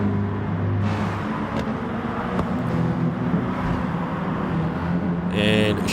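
A Volkswagen race car's engine drones steadily at Brands Hatch in GT Sport, a constant buzzing roar with a brief higher whine near the end, carrying under a commentator's voice.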